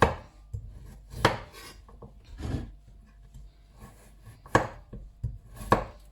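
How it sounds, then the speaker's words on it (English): A knife cuts fresh coconut flesh into tiny pieces on a board, producing close, crisp chopping thuds at an irregular pace, some louder than others, with no talk. "after breaking the coconut, you just have to cut it into tiny pieces like so"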